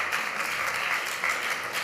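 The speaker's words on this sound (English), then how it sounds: "Another round of applause" An audience at a scientific poster session gives a short round of applause, a steady, fairly close patter of many hands clapping for the whole stretch.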